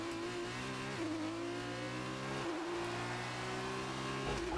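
An ART GP Formula 2 race car from F2 2018 screams around the Hungaroring on the final lap of the feature race. A loud, steady engine whine is heard alone, dropping in pitch at each upshift and then climbing again.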